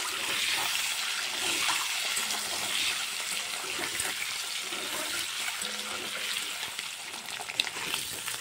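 Eggs fry in oil for egg curry, a continuous bright crackling sizzle at moderate level with occasional louder pops, no one speaking.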